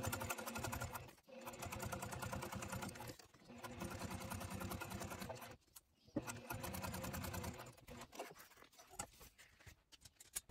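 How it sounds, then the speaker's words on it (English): A sewing machine runs in steady bursts, stitching 1/8-inch binding along the bottom edge of a clear vinyl pouch at a 4 mm stitch length, with brief pauses between runs and a voice over part of it. "you're going to stitch it along the bottom edge here of the binding"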